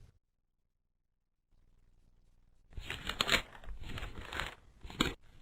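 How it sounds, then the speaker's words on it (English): Book pages turned by hand, a few soft papery rustles and crinkles after a quiet start, close and gentle with no voices. "The turning pages make a soft sound."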